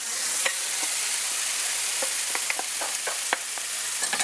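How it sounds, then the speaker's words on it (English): Two pounds of lean ground beef and a chopped large onion browning in a skillet over medium-high heat: a steady close sizzle with scattered sharp pops and scraping stirs, no voices. "Setting the skillet at medium-high heat, we're now going to brown 2 pounds of lean ground beef"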